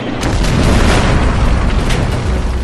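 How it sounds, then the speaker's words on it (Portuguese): A missile detonating close to a fighter jet in aerial combat: a loud, sustained explosive boom with rumbling, roaring body filling the whole short stretch. "Eu vi o míssil passar pelo caça e explodir."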